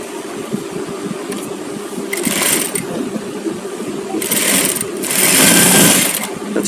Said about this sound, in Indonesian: jadi ini kita jahit saja